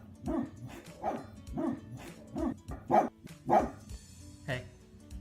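Dog barks in a steady run of about eight loud, evenly spaced woofs close to the microphone, ending with a slightly higher final bark.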